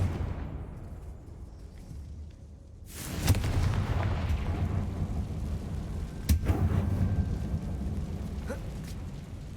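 The Confringo spell blast in the video game Hogwarts Legacy: a sudden loud burst after a quiet start, followed by a sustained rumbling roar, with a second sharp crack a few seconds later.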